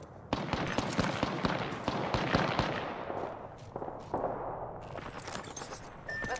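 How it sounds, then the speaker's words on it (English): Gunfire in a shooter video game, a fast volley of sharp cracks followed by scattered single shots and a few distant bursts. "Yeah, getting shot at."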